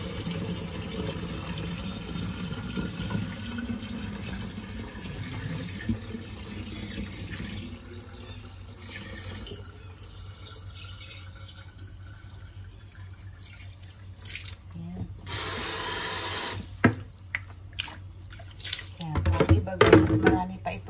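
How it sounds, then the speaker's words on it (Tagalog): Leftover water poured out onto garden plants: a steady splashing stream under someone talking, later giving way to scattered drips and brief clatters. "Itong tubig na ito guys ay ibubuhos natin sa ating mga halaman para hindi sayang yung ating tubig."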